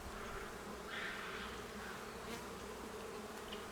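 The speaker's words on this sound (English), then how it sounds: "But it's just nice to see how many bees are flying." Honey bees buzz around a hive in early spring, a faint, continuous drone with individual insects passing close at moments, and no voices present.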